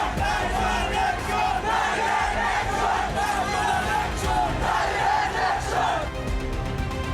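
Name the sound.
frenzied crowd chanting slogans on the street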